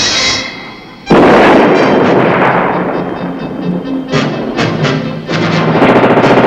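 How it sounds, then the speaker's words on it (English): A Redeye one-man shoulder-fired missile launches at an aerial target during an Army air defense exercise, a sudden loud blast followed by a sustained roaring rush that keeps on with crackling surges until the end. "As an instructor looks on, Red Eye, one-man defense system, goes against an aerial target."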